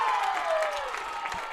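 Field hockey spectators in a stadium cheer and applaud after a big save, a brief swell of crowd noise with a faint tone sliding through it.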